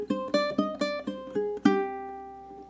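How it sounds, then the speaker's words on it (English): Japanese In pentatonic scale picked on a ukulele, about eight bright plucked notes in an even stepwise run, the last note ringing out and decaying alone. "I used a Japanese pentatonic scale known as the In scale."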